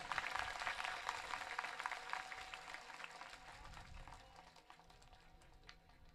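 An audience at a Hindi spiritual discourse gathering claps with a dense, crackling patter that starts fairly strong, then thins and fades to a faint ripple.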